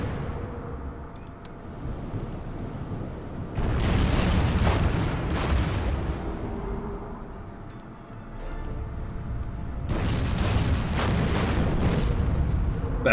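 Warship main guns firing in the naval strategy game Order of Battle, heard as two loud rumbling salvos with booming, crackling bursts, separated by a quieter stretch of low background noise.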